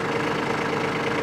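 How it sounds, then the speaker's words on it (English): A Kubota B2601 compact tractor engine idles steadily, a dense and even mid-low drone running alone with no talk. "We're going to start the tractor up."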